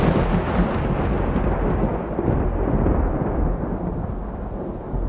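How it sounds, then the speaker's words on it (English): Distant thunder rumbles low and continuous through a stormy night, a heavy, steady roar that slowly fades toward the end, with no voices over it. "Thunder rumbled in the distance."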